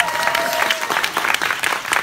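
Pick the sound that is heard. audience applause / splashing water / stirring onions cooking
audience applause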